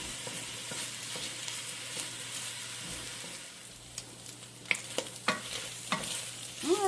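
Sausage browning in a frying pan over raised heat, a soft steady sizzle with intermittent scraping and tapping as a utensil breaks up the meat, the clicks growing sharper and more frequent toward the end.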